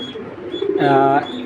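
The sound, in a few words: pigeon cooing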